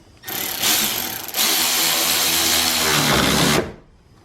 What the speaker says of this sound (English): If you don't have one of these Milwaukee ratchet things, you should get one.